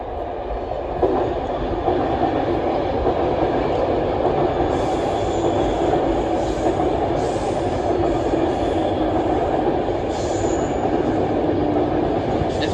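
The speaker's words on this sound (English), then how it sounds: "Train currently passing through." A passenger train of about 11 coaches rumbles steadily past close by on the West Coast Main Line, a continuous roar of wheels on rails with faint high squeals of metal partway through.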